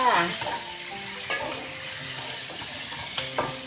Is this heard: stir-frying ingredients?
yes